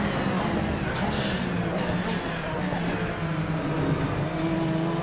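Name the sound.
race car engines passing in Assetto Corsa video game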